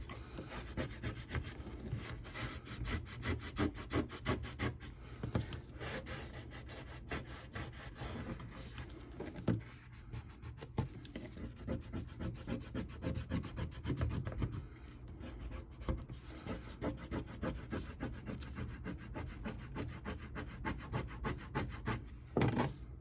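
A tool rubs rub-on transfers onto a vintage-style scrapbook binder, producing a continuous dry scratchy rasp with rapid back-and-forth strokes, close and steady throughout with no talking.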